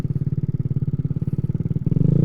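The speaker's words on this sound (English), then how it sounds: "Like a backfire causing it to die." Honda Ruckus scooter engine idling with a fast, even putter, then a sudden backfire-like change near the end as the engine falters and dies; close and fairly loud, no talk.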